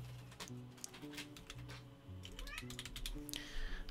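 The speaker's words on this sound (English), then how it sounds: "Oh my goodness, we have a cat." Domestic cat meowing indoors, a few short calls amid clicking keyboard typing and faint background noise, quiet overall with no speech.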